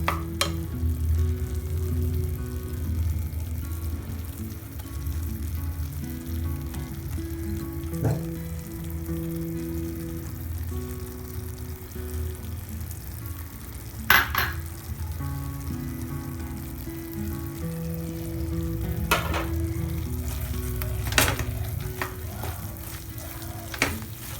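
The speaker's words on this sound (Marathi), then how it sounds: "आता आपण याच्यामध्ये मावा आणि वेलची टाकून घेऊया" Melted jaggery being stirred in a pan with mawa and cardamom bubbles and sizzles softly over a low background hum, with occasional clicks and scrapes of the spoon.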